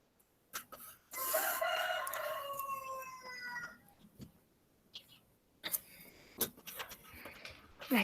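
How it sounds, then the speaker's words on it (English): A rooster crows once, a long drawn-out call picked up faintly in the background over a microphone, followed by scattered clicks and soft knocks. "Oh, that was a rooster."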